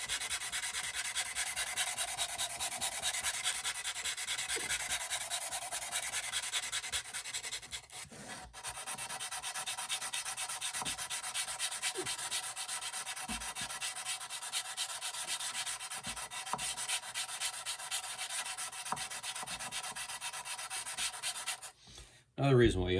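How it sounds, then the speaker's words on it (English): Small model roof pieces being sanded, a continuous close scratchy abrasive rubbing with a steady even texture that runs almost unbroken, pausing once briefly, then stopping near the end. "when you go in sanding like this, some of them are gonna get sanded down a lot"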